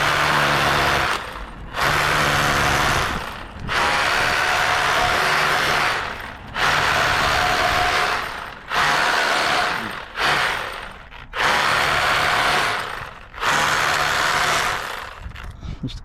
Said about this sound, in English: A little fine drill.